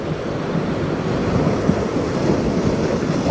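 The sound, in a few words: sea waves rising on rocky shore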